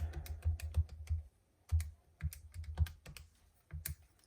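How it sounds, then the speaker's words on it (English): Numbers being keyed into a calculator: a steady run of quick, close taps in short bursts with brief pauses, no voices. "So if I type that all in my calculator,"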